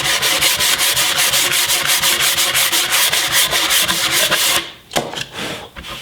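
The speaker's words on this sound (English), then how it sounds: "So always make sure that you're sanding along the long arm" Plywood edge banding is sanded by hand with steady back-and-forth strokes, a close, rhythmic rasping scrub repeated many times before it stops, followed by a couple of light knocks and quieter rubbing.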